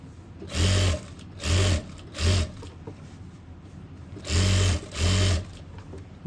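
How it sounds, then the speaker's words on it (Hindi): A sewing machine stitches a pocket in five short, loud bursts separated by quiet gaps, close at hand. "और फिर दोबारा से मशीन को घुमा लेंगे हम और नीचे तक सिलाई को ले आएंगे।"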